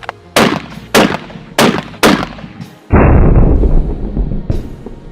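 Four sharp rifle gunshots ring out while deer hunting for bedded bucks, spaced roughly half a second apart, each a loud crack with a short tail, followed by a sustained rumbling roar of wind or echo.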